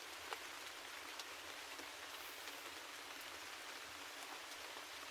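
Steady rain falls alone in a soft, even hiss of many fine drops, with scattered tiny taps standing out faintly, quiet and continuous throughout.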